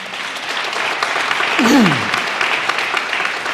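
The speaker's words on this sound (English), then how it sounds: "I'm glad that reserves get an applause." Audience applause in a legislative chamber during the Colorado State of the State address, a dense, steady wash of clapping from a large crowd, fairly loud and sustained, with a brief vocal sound rising through the middle.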